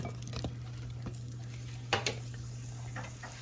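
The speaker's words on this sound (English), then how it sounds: "I'm going to add that to my skillet and kind of get some crispy edges, some flavor in there" Diced food sautés in a hot skillet, a steady low sizzle broken by a few clacks of a utensil stirring and scraping.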